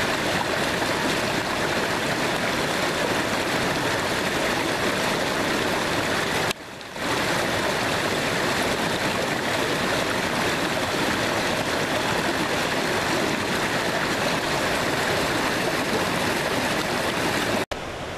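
Elliot Creek flows steadily near a roadside camping spot, a continuous loud rushing of water that stays close and even throughout, with a momentary dip partway through and no voices.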